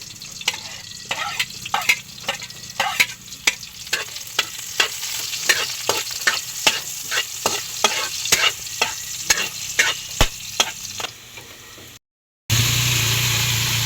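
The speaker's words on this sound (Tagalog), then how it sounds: "Ginisa na din po ni John Paul yung panlahok." Ingredients are sautéed in a pan at a dark home cooking spot, sizzling under repeated rhythmic scraping and stirring strokes for about twelve seconds, then a short silence and a louder, steady hiss.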